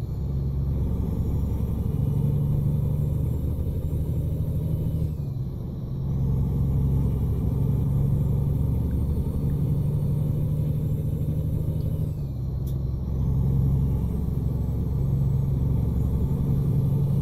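Peterbilt truck engine in American Truck Simulator, a steady loud low rumble that holds almost unchanged, with brief dips around the middle and near the end.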